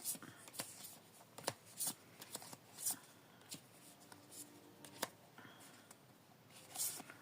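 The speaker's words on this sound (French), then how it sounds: "il va falloir que je les mélange" Tarot and oracle cards shuffled by hand, repeated soft riffling slaps and flicks in uneven bursts, close and fairly quiet, without speech.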